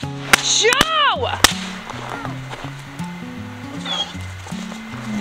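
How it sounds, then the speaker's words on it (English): Firecrackers go off in a few sharp, loud cracks spaced about half a second apart near the start, heard over steady background music. "You threw firecrackers in there?"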